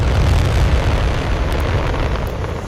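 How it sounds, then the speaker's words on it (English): A Skyhawk jet roars low while its cannons fire during a Falklands War battle, forming a dense, loud, continuous rumble of engine noise and gunfire blended into one steady wall of sound. "Sánchez fires his cannons,"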